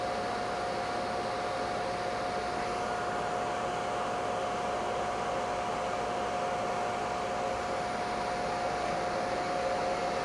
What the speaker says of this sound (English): Motor there sucks in a lot of air.